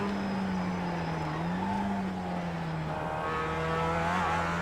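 A Mazda MX5 race car in iRacing's MX5 Cup at the Charlotte Motor Speedway Roval. The engine holds a steady, moderately quiet drone, with a brief rise in pitch near the end.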